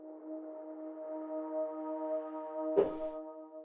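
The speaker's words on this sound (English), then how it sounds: "Next, I did the same thing with this Seashore Pad." A sustained Seashore Pad synth preset from Ableton plays alone as a smooth, steady tonal chord, ending with a brief bright transient near the end.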